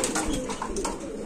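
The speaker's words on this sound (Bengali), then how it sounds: "এখানে আছে আরেক পিস মডানা কবুতর নন্না মাদি ভাই" Pigeons cooing at a pigeon market, soft repeated coos close by with steady market noise in the background.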